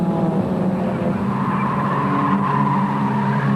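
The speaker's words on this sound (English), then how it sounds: "There's Garry Waldon, race leader, just winding up past Drew Price, car 78, in the little Peugeot 205." Little Peugeot 205 production race car, driven on its last lap at Amaroo Park in 1988, roaring past on the track as a steady loud engine drone with other cars around it and no talk.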